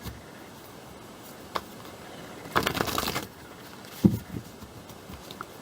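Tarot cards are shuffled in a few short bursts: a brief riffle, then a longer rustling shuffle, then a couple of sharp taps and flicks, close and fairly quiet.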